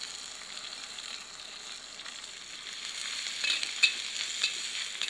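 Napa cabbage being stir-fried in a wok after scallion segments are fried until fragrant: a steady, soft sizzling hiss with a few light clinks of the spatula toward the end. No one speaks.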